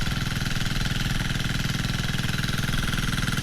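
A machine engine runs on a farm in the evening, a steady close idle with a throbbing low pulse that holds evenly throughout with no voices.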